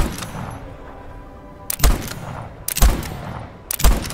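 Gunfire in the game Voidtrain aimed at a creature: three sharp, loud bursts of shots spaced about a second apart, each with a booming low thump, over a quieter background.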